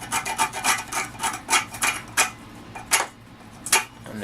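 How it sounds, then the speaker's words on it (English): Repeated short scratches on wood while marking a cut line for a rake handle exhaust, a quick rhythmic series of rasping strokes, close and fairly clear with no talking. "What I can do here, just make a couple scratches."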